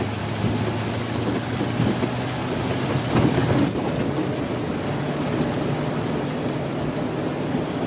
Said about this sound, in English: They don't have rain like this in Boston.